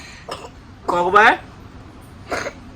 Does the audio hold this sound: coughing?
yes